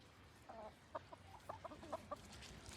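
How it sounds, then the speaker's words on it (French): Hens cluck in a short run of quick, soft, irregular calls outdoors in Quebec, fairly faint over a steady background hiss, with no voices. "Hey, les poules, ben oui. Vous avez le goût de participer?"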